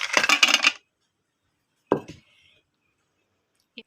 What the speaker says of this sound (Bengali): দিয়ে দিচ্ছি কয়েক টুকরো আইস।